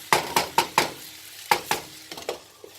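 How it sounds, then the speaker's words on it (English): Potatoes fry in a pan while a utensil stirs them, giving a quick series of sharp scraping strokes in an uneven rhythm over a soft sizzle, close and fairly quiet. "Just keep stirring every once in a while, just to make sure every part of it is cooked well"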